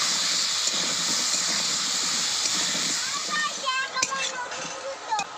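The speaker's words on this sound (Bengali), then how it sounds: "এবার কেটে রাখা নতুন আলু ভেজে নেব।" New potatoes frying in hot oil in a pan, giving a steady loud sizzling hiss that thins out toward the end as a few brief clatters sound.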